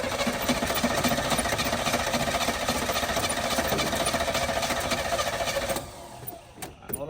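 Cranking V8 engine in a swapped S10 truck that has sat for years, a loud steady churning drone lasting about six seconds before cutting off, followed by a few brief clunks and quiet.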